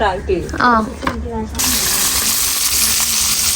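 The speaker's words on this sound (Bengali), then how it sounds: "আর এই যে ওনার মাছ ভাজা" Fish sizzling in a frying pan during late-night cooking in a village courtyard, a steady hiss that rises after a brief stretch of close voices and carries on alone.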